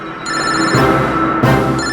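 A telephone rings in a crime drama scene, two loud electronic ring bursts close by, with a brief gap between them.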